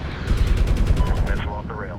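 Apache helicopter gunfire in Medal of Honor: a rapid burst of loud, close automatic cannon fire lasting about a second and a half, with a voice speaking over the shots.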